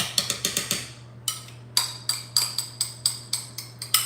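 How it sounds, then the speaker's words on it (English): A spatula clinks repeatedly against a mixing bowl while scraping out pound cake batter, a quick series of sharp, close knocks in an uneven rhythm over a low hum. "Sorry for all the scraping and the noise and stuff."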